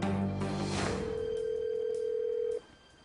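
A telephone sounds as a call is placed: a few mixed tones at first, then one steady, clear tone held for about two seconds before it cuts off abruptly, at moderate loudness.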